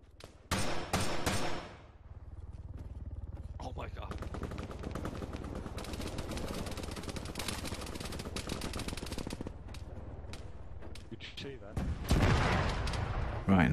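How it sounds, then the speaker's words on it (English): Gunfire in the video game Arma 3 opens with a sharp close burst, then a long stretch of dense, rapid automatic fire, followed by another loud burst near the end. "I can hear some gunfire out there,"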